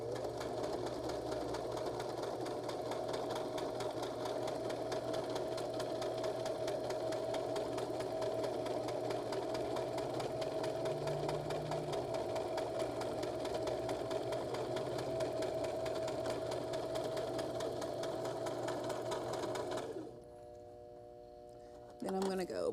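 A sewing machine stitches a small knotted fabric bag, running steadily forward and reversing for back stitches in a continuous, even mechanical whir. It is close and loud, then drops off for a moment near the end.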